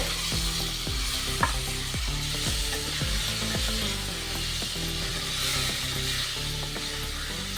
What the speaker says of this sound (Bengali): এবার গ্যাসের ফ্লেমটা আমি জোরে রেখে একটু নাড়াচাড়া করে ভেজে নেব